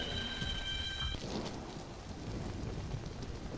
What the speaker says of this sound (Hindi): राघव, इतनी बारिश में छाता क्यों नहीं लाए?